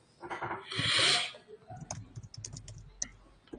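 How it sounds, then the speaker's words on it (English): Computer keyboard typing, with a rapid, irregular patter of light keystroke clicks following a short hissy burst of noise, fairly close and moderately quiet. "The technical supporter is typing here."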